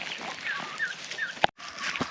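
Turkeys on a Philippine backyard farm gobble and chirp in a quick series of short calls at moderate distance, with a sharp knock partway through and a brief dropout before the birds continue.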